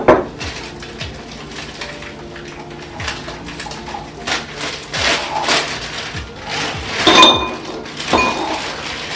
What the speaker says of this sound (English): I'm going to just transfer the berries out of there.